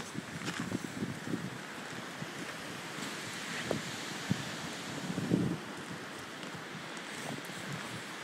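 Wind blowing across a snowy winter landscape, a steady broadband rush with soft gusts and buffeting against the microphone, fairly faint and with no talking.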